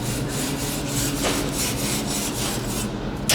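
Steady rasping strokes of a wire brush or abrasive cleaning an aluminium alloy weld seam after semi-automatic welding, close and continuous with a rhythmic rubbing pulse and no speech.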